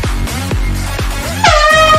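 Several short air horn blasts in quick succession, then a louder, sustained bright blare near the end, close and piercing.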